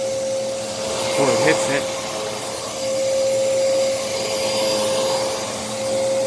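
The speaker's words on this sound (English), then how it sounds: "I don't know if you can even hear me over this motor. It is a 12 amp motor." A Moosoo U1400-A vacuum cleaner with a 12 amp motor drones loudly and steadily close by in a living room, with a brief voice speaking over the motor's constant whine.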